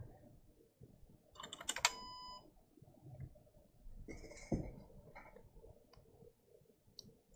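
A computer keyboard that is mostly held back by firmware issues, typed on in sparse, faint clicks and taps, with a brief burst of sharper clatter.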